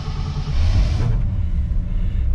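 On a frosty morning, a 1972 Honda CB500 Four engine runs with a loud, low, steady rumble that shifts slightly partway through, close and continuous with no talking.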